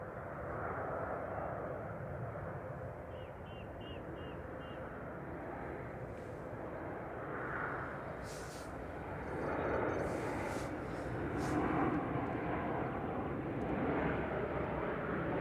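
An airliner arriving at Manchester Airport from Palma de Mallorca makes a steady broadband engine roar, swelling slightly toward the end, with faint voices talking underneath.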